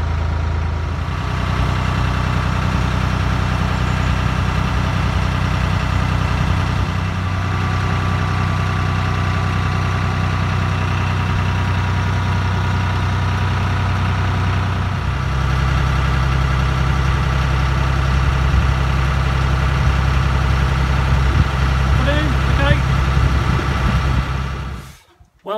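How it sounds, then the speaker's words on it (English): A narrowboat's diesel engine runs steadily for a long stretch, a loud, close, low throbbing idle with a constant hum and a brief shift in tone partway through. "Boat's running great. Engine sounds brilliant."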